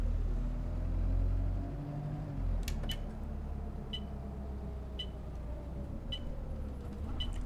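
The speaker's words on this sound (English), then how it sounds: "Quite like the ZF sounds, although they do sound like they're from a much older bus than what we're currently driving" Bus engine with a ZF gearbox driven through London in the OMSI 2 simulator, a steady low drone with a slowly shifting gearbox whine, plus a few faint clicks and ticks over the rumble.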